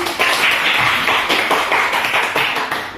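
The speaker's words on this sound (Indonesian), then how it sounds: "tepuk tangan dulu teman" Classmates in a classroom applauding together, a steady burst of clapping from a group lasting a few seconds, fairly loud and close, with no one speaking over it.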